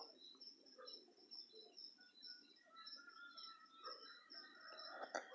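Small birds chirp and sing outdoors, faint and fairly distant, with repeated high tweets and calls layered over soft background hiss, no voices.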